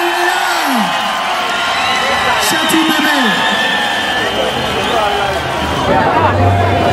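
A large concert crowd cheers and roars for a singer at a 2023 show at Bercy, a dense steady wall of noise under an amplified announcer's voice.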